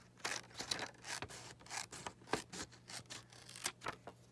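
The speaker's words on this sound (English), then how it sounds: "I'm just going to trim right around" Scissors trim paper around a die-cut shape in a crafting setting, making a quick series of close, crisp snips and rustles in an irregular rhythm, with no talking.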